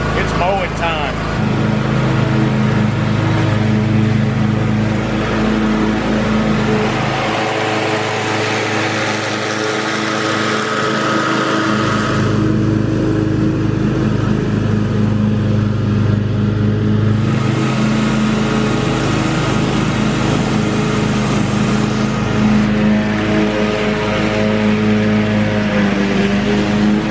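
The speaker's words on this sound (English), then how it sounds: "Oh yeah, it's mowing time." A lawn mower runs continuously while mowing a backyard, a loud, steady engine drone with a buzzing whine that shifts slightly in pitch and load as it moves, with occasional talk over it.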